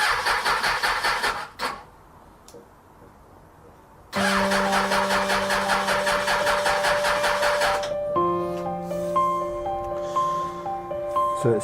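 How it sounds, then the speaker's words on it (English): A Suzuki Bandit 600 motorcycle engine cranks on the starter without firing, with empty carburetors, in two long whirring bursts separated by a quiet gap, the second ending in a steady tonal whine. "So it's turning over, but it's not actually firing."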